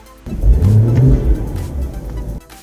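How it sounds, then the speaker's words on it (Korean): Mercedes CLS 53 AMG engine with its variable exhaust valve open in comfort mode, a loud, deep rev that swells and holds for about two seconds before dropping back to a low idle, heard up close. "내가 컴포트 모드이지만 가변 배기를 열어가지고 소리를 증폭시킬 수 있는 옵션도 여기 있으니까"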